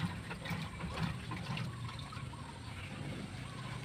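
A Sharp automatic washing machine running its wash cycle gives a soft, steady sloshing and trickle of water over a low mechanical hum.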